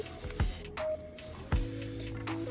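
Marinated meat for Korean BBQ is squeezed by hand in a bowl, giving two wet, squelching squishes about a second apart, close and moderately loud, with faint drips between them.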